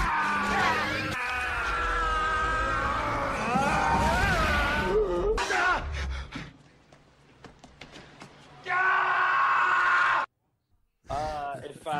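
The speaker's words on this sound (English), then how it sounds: "I give it the Arnold Schwarzenegger scream montage." Arnold Schwarzenegger scream montage: a rapid run of loud, strained shouts and yells cut back to back, with abrupt edits, brief silences and screeching bursts between them.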